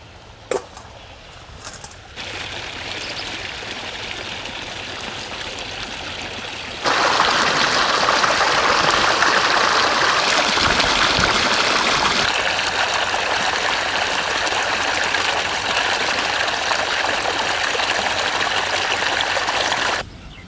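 Tap water runs steadily while cut chicken meat is washed in a village kitchen, a loud close splashing stream that grows heavier partway through and continues to the end.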